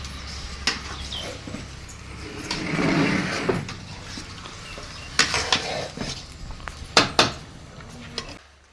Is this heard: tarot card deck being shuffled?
no